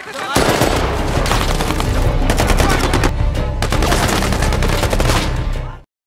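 Sustained gunfire exchange in a war film set against the Taliban, dense rapid bursts of shots running continuously, loud and close, then cutting off abruptly at the end.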